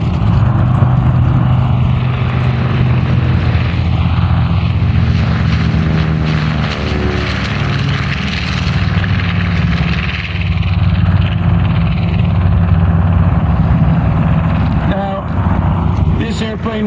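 A World War II era propeller airplane with an Allison engine drones steadily overhead at an air show, its loud engine roar continuous throughout while someone talks over it.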